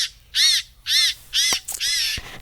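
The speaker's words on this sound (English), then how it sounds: "Hear the annoying bird sounds." Crows caw near a farm field close to harvest: four loud, harsh calls in a steady rhythm, each about a quarter second long, separated by short pauses and ending with a few fainter knocks.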